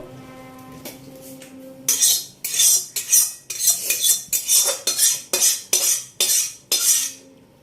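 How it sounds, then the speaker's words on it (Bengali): A metal spatula scrapes and stirs potatoes in a karahi, about a dozen rhythmic, loud scraping strokes that start after a quiet opening and follow one another steadily until near the end. "খুন্তি করে একটু ঘেঁটে দেবো"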